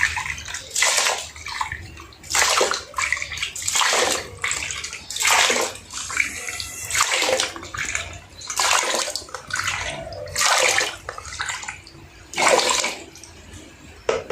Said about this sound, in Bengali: 10 কৌটা জল দেবো।